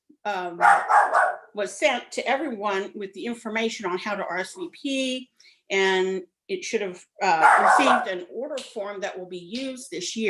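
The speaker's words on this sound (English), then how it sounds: "I apologize for my dog barking crazily in the background" A pet dog barks in the background of a home video call, the barks buried under continuous close talk.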